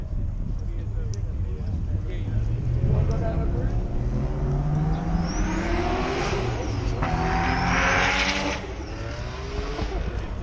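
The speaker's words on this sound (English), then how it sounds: "your car's leaving." A twin-turbo car pulls away from a car meet, its engine revving loudly and then fading into the distance.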